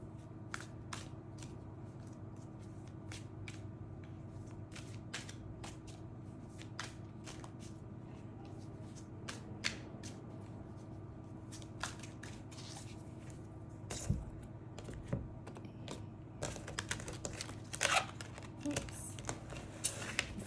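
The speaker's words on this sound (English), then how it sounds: "Cards are new and pretty slick, so hard to shuffle." New, slick tarot cards riffle and snap in repeated quick bursts, shuffled close by against a low steady hum, with brief pauses between shuffles.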